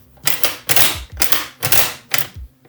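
The action of a Panzer semi-automatic shotgun is pulled back and released several times. Each cycle gives a sharp metallic clack, and the sounds come in a quick, evenly spaced series, close and crisp.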